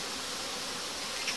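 A queenless honeybee swarm gives a dense, steady buzz of many wings, close and continuous throughout, with no voices over it.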